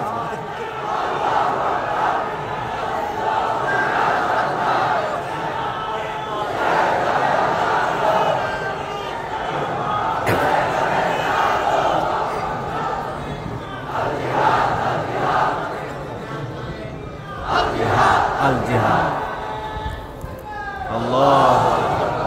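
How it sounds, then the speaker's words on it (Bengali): A large crowd at an Islamic waz gathering chants a slogan in unison, a loud and sustained roar of massed voices that swells and surges in repeated waves. "স্লোগান জিহাদ জিহাদ জিহাদ"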